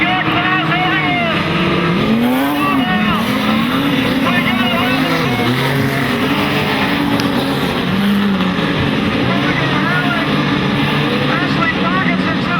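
Modified sedan race cars at Maryborough Speedway, a loud dense roar of several engines revving and passing together, with a race commentator talking continuously over them.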